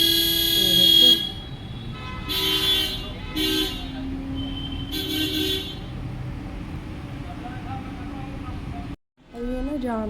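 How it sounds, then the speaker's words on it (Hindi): Car horns honk in heavy evening traffic outside a residential colony, several bursts, some long and some short, sounding close and fairly loud, with someone talking between and over them. "ये देखो बहुत जाम लगता है।"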